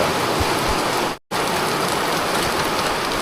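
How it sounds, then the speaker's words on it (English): Heavy rain pouring down outdoors, a steady dense hiss of drops on surfaces, loud and close, broken by one brief dropout of silence. "Rain for days, for months and decades."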